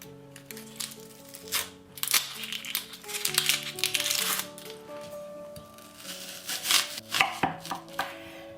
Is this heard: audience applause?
no